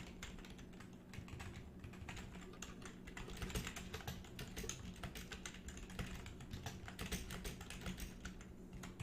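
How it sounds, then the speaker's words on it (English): Fast, steady clatter of keys on a computer keyboard during a gaming live stream, faint but continuous for about nine seconds with no voices. "Excuse my typing."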